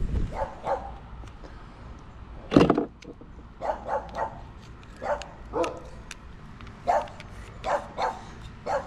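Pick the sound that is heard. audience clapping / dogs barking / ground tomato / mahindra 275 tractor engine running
dogs barking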